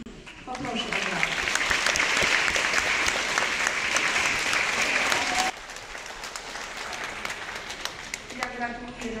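Sustained audience applause at a school year-end ceremony at a music school in Oświęcim, a full hall of clapping that drops to a lighter patter about halfway through, with a voice briefly audible near the end.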